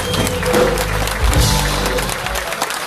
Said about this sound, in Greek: Είμαι σίγουρος ότι αυτό το χειροκρότημα είναι για τον Αλέξανδρο.